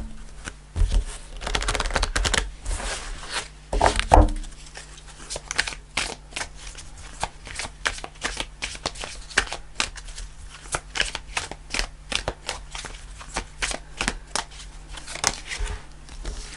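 Tarot cards are shuffled continuously in a dense, crackling riffle of papery flicks that runs the whole time, fairly close, with a steady low hum underneath and a brief heavier thump partway through.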